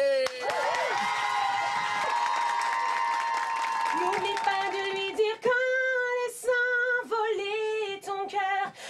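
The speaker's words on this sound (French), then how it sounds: "Notre invité, vous pouvez l'applaudir très fort" Studio audience at a French TV show applauding and cheering a guest singer: loud, steady clapping with whoops, then music and a voice over fading applause.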